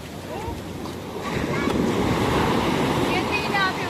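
Big ocean waves crash and roll during a beach vacation, a loud broad rush swelling and holding near the microphone with wind buffeting, while voices exclaim over the surf.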